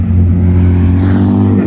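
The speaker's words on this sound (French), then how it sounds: "un petit sifflement lors de grosses accélérations" A C3 built with a small Mercedes supercharger pulls hard under acceleration, giving a loud, close engine drone with a faint whistle riding on top.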